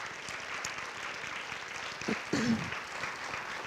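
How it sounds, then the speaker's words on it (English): Audience applause at a church testimony service, a steady wash of clapping from a crowd, with a brief voice and a cheer rising near the end. "Can we give her a round of applause, first of all?"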